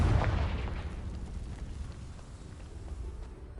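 A Confringo explosive spell blast in Hogwarts Legacy bursts with a loud, deep boom at the start, followed by a rumbling decay and lingering crackle with no voices.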